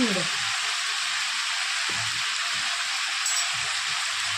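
Onion with coriander powder and spice masala sautés in a pan for a dried fish, bean and potato dish, giving an even, loud, close sizzle that hisses without pause, with only faint clinks underneath.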